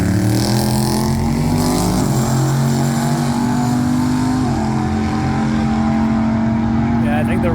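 Drift cars, a Ford Fox body and a Buick Regal, at Showtime Speedway in Florida, engines roaring loud and sustained with rising revs while spectators talk over the noise.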